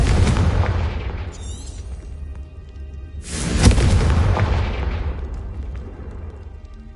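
Two booming fire-spell explosions in Hogwarts Legacy, the Confringo curse, each a loud sudden blast that rumbles and fades over a couple of seconds, the second heavier than the first.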